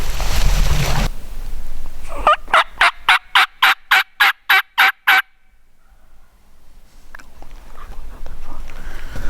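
A wild turkey gobbler in thick, wet Oregon mountain forest breaks into a clear, rapid gobble of about ten loud pulses, near and alone after rustling, with quiet ambience before and after.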